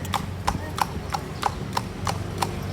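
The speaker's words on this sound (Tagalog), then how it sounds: "Kabayo siya." A horse's hooves clip-clop on a Manila street in a steady, even gait, about eight crisp strikes close by, with a voice faintly underneath.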